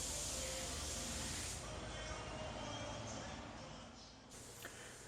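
A continuous hiss of a spray gun spraying single-stage paint in a medium wet coat on car parts, steady and close, easing off briefly and resuming near the end.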